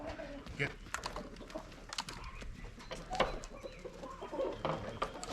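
Farm chickens burst from their coop at morning feeding, giving scattered clucks and squawks amid rustling, with faint human voices and irregular close knocks and scratching.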